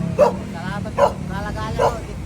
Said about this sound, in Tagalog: Oy, ang daming aso ni kuya.